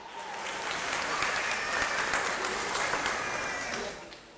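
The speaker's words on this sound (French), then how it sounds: "je vous demande d'applaudir très très fort" An audience at a Faso Academy 2019 semi-final show applauds, dense clapping that swells, holds steady and then fades near the end.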